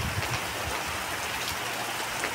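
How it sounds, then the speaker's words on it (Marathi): Heavy rain pours down steadily, a dense continuous hiss of drops hitting surfaces close by, with no voices over it. "बघा किती डेंजर पाऊस येतोय।"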